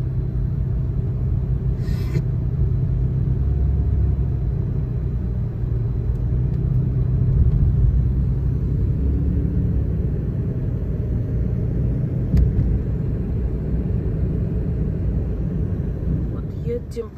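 Road rumble of a car driving slowly on icy, snowy roads, a steady low drone throughout under a voice speaking.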